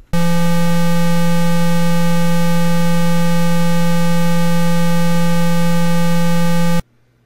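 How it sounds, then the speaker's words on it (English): Tandy Color Computer producing its lowest tone, a steady buzzy low hum held evenly for about seven seconds before cutting off abruptly. "I heard a very low frequency tone for a fairly lengthy"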